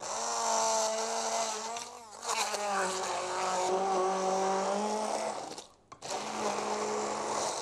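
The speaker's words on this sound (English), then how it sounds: "The easiest equipment to use for this is a hand blender" Hand blender whirring through vegetables, a loud continuous high-pitched motor buzz that shifts pitch as it works, with one brief pause near the end before starting again.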